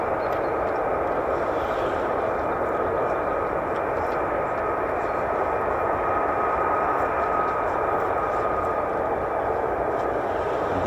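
US Air Force F-35A fighter jet at RAF Lakenheath, a loud, sustained jet engine roar with a steady whining tone and deep rumble underneath, constant for the whole stretch.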